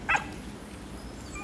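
A single short dog bark or yip, brief and moderately close, over a steady outdoor background hum near rural fields.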